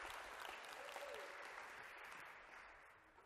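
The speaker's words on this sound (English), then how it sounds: "a round of applause for these guys" An audience breaks into applause that is dense and continuous at first, then gradually thins and fades toward the end.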